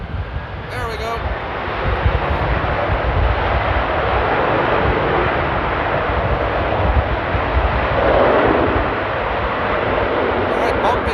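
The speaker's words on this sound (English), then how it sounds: "turn and burn by the A330. Power to the CF6s." An Airbus A330 with CF6 engines spools up to takeoff power at Amsterdam Airport during a storm, a loud, continuous broadband engine roar with wind buffeting, sustained throughout and under a spoken voice.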